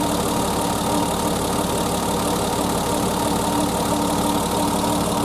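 A 1988 BMW E30 engine with its check engine light on runs at a steady idle, giving a constant, loud, broadband mechanical drone with no pauses or revving.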